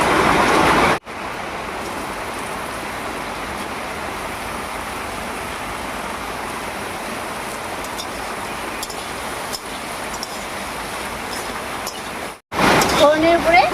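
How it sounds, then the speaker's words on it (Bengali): Chopped taro, jackfruit seeds and pointed gourd go into a pan of hot oil with lightly fried moong dal, giving a steady, fairly loud broadband sizzle that runs unbroken for about eleven seconds before cutting off abruptly. "এবারে কেটে রাখা সবজিগুলো দেব।"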